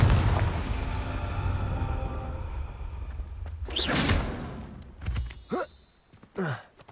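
Confringo explosive spell from Hogwarts Legacy, a loud whooshing blast bursting with shattering debris, followed by two more sharp crackling impacts separated by brief lulls, over a low rumbling backdrop.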